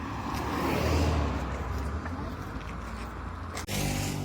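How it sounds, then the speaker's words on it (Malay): A car pulling in to park at a grilled-fish restaurant in Kuala Perlis, a close low engine rumble that eases off, ending with a sharp click or door sound. "Okay, kita parking kat sini."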